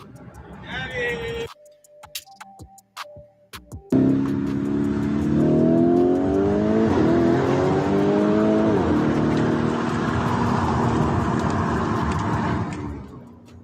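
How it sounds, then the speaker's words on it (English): A car speeding off hard on a street. After a few seconds of quiet and clicks, the engine bursts loud and close, revving through rising gear pulls that climb and drop for about ten seconds before fading, with voices briefly heard. "The dude in the other car yells something back and then speeds off."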